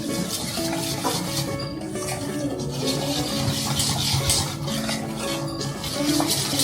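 Steady scraping and clinking of a utensil stirring in a bowl, continuous and close, with no voices.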